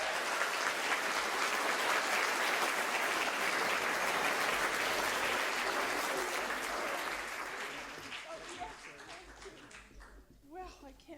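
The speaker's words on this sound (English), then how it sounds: "Let's give her a round of applause." Sustained applause from an audience at an author talk, loud and steady for several seconds before tapering off, with a few voices emerging as it fades.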